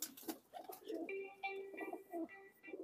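Pigeons of Dubwale and kamagar breeds kept by a fancier in Jammu, cooing in soft repeated rolling calls, several overlapping at close range.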